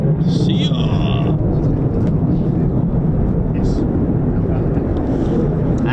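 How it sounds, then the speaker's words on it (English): Jet engine roar from F-35 fighters spooling up at an RAF Lakenheath airfield, a loud continuous broadband rumble that holds steady throughout, with wind buffeting the microphone. "There are more F-35 spooling."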